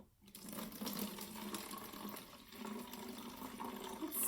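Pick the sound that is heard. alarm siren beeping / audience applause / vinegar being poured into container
vinegar being poured into container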